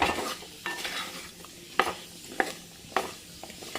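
Ash gourd pieces and green chillies fry in hot coconut oil, a soft constant sizzle broken by repeated sharp scrapes of a utensil stirring against the pan.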